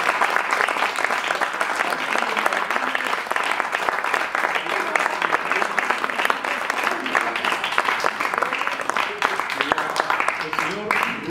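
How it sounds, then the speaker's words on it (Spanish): A theatre audience applauds the sound technician with sustained, even clapping from many hands. A voice may be faintly mixed in under the applause, which carries steadily from start to finish. "Oportunidad para solicitar un aplauso para nuestro técnico de sonido"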